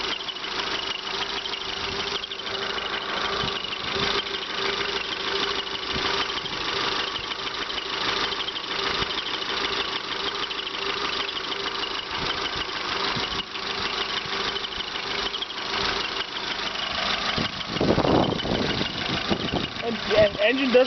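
A 1997 Honda Accord with a 2.0 or 2.4 liter engine idles steadily after start-up, a constant mid-pitched hum with a faint ticking texture. The sound stays even throughout, with a short louder rustle or bump near the end.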